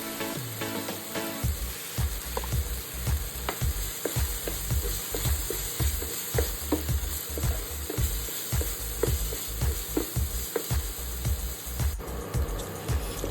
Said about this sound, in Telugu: ఈ కారం వేసేసి వీటిని కూడా కొంచెం వేగనిద్దాం.